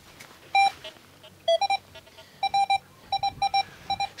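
A metal detector sweeps a sandy Baltic seaside beach over a buried coin. It gives repeated short, clear electronic tones in quick pairs and triplets, close and crisp, with faint wind and ambient hiss between them.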